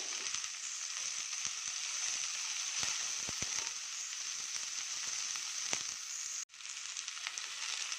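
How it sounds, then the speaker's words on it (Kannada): Carrots and beans fry in a hot pan with a steady, close hiss and crackle, scattered pops and a brief clatter near the end, and no one talking. "ಕ್ಯಾರೆಟು, ಬೀನ್ಸು, ಇದೆಲ್ಲ ಸ್ವಲ್ಪ ಫ್ರೈ ಆಗಲಿ."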